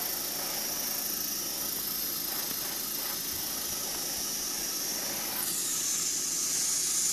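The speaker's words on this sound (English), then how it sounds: "don't buy a crappy airbrush" A cheap airbrush sprays paint onto a model railway flatcar with a faint, steady hiss that swells slightly near the end.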